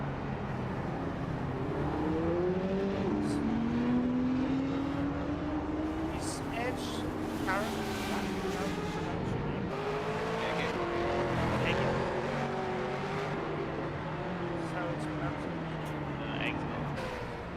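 A Porsche 963 race car engine roars in a sim racing game during a Daytona preseason test, with a steady high-revving drone whose pitch sweeps up and down through gear changes, continuous and fairly loud, with voices talking over it.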